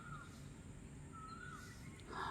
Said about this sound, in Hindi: चिड़ियों की चहचहाहट आपके कानों तक पहुंच रही है